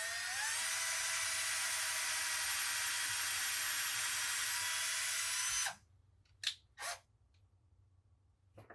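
A power drill whines loudly and continuously for several seconds, drilling holes in finished door trim, then stops abruptly, followed by a few short, sharp bursts of sound.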